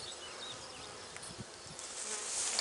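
Honey bees buzz around a hive as a steady, faint, diffuse hum, with no voices over it.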